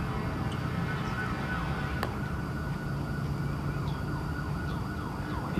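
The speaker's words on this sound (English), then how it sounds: "a lot of siren noise in the background" Emergency siren wailing in the background, a repeated rising and falling tone carrying steadily throughout over a low hum of traffic, fairly distant, with no talking.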